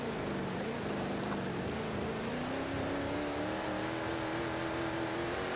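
A 1965 Ford Transit van's engine drones and revs steadily in Forza Horizon 5 with traction control off, its pitch climbing slowly as it holds a high, strained note in a low gear, loud and continuous throughout.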